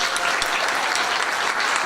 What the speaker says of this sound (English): let's give another round of applause to Chastity for making us laugh